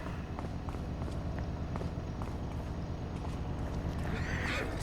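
Horses on a UK smallholding equestrian property in the Farming Simulator 25 video game, a whinny rising near the end over steady clip-clop hooves and a continuous ambient hum.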